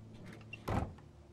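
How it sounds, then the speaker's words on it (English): A door closing in the Telltale The Walking Dead video game, a single soft but clear thud near the middle of an otherwise quiet moment. "Close the door."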